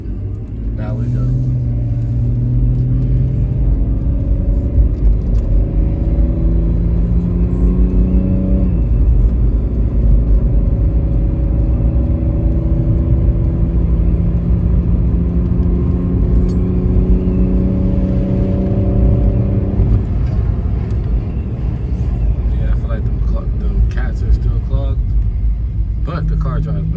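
Steady BMW E46 wagon engine drone while driving, with rising and falling pitch as it accelerates and shifts gears, continuous and fairly loud throughout.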